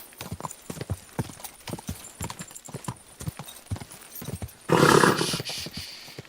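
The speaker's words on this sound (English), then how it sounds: "Easy, good horse." Steady hoofbeats of a galloping horse drum in a quick rhythm in Kingdom Come Deliverance II, followed by a loud burst of noisy action near the end.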